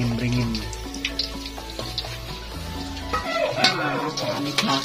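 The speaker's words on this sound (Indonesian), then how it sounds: "Kali ini kita lagi mau melihat Mak Rohmah goreng tempe" Tempeh frying in a pan in a simple village kitchen gives a steady, close sizzling hiss, with light clinks and scrapes of stirring throughout and no talk.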